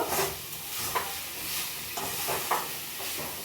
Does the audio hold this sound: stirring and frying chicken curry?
yes